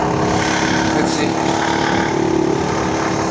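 Frp Gmb100 mini bike engine held at a steady throttle while riding, a continuous buzzing drone with constant pitch and loud, close presence, plus some wind noise.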